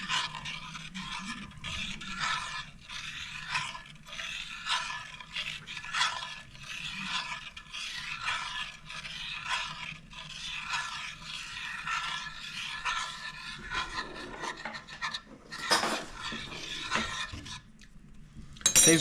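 A spoon scrapes through almond sauce in a pan as pork belly braises, making repeated rhythmic scraping strokes close by, with a few soft clinks of metal against the pan and no talk.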